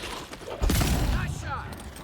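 A single gunshot in the fantasy game Avowed, a heavy thump that lands mid-clip amid cluttered combat noise, with a voice talking nearby.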